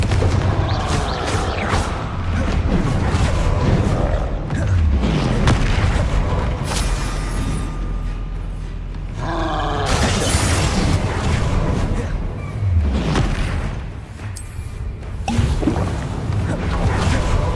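Spell explosions in the Hogwarts Legacy video game, a relentless barrage of loud, deep booms and blasts with a voice shouting incantations over the din.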